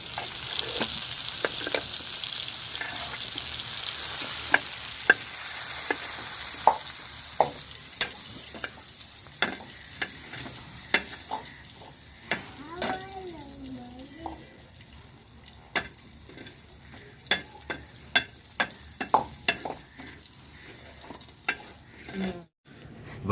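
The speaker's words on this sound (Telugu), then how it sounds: "ఇంకా టమాటా పండ్లు ఎల్లిపాయలు అయితే వేగేవన్నమాట." Tomatoes and garlic fry in a pan, a soft continuous sizzle broken by frequent sharp clicks and scrapes of stirring, with a voice briefly heard partway through.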